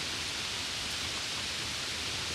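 Heavy monsoon downpour beside the Surya river in Palghar district pours as a dense, steady roar of rain and rushing water, unbroken and loud throughout, with no voices.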